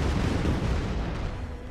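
Fireworks explosion in the ShellShock Live artillery video game, a loud dense burst of booming and crackling that fades slightly over a short moment, with no talking.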